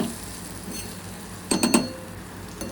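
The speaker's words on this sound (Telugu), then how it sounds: "పావు గంట పైనే వేగాలండి సన్నమంట మీద" Boiled eggs frying in curry in a pan over a low flame, a steady soft sizzle with a short burst of stirring scrapes and clinks partway through.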